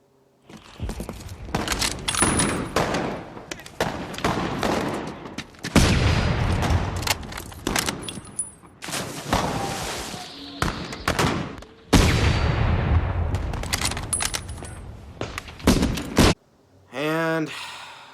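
Gunfire from the Saving Private Ryan film: several rapid bursts of shots and crackling impacts in loud clusters separated by brief pauses, with a voice speaking over parts of it.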